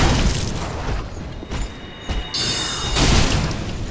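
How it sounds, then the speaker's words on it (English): Magic spells cast in the video game Dark Souls III, a run of booming impacts and crackling bursts with a bright sustained shimmer midway, loud and dense, no talk. "we can actually start shooting magic at you"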